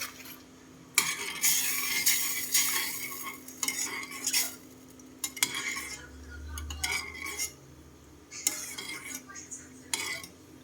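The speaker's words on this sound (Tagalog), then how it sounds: "Haluin natin." A spoon stirring corn snack in a metal pot, scraping and clinking in irregular bursts with pauses between, close and moderately quiet, a faint low hum underneath.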